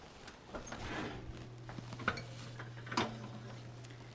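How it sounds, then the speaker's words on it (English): A metal muffin pan of dried cherry cheesecake muffins comes out of the oven with two light metallic clanks over a steady low appliance hum. "So we'll take this pan out."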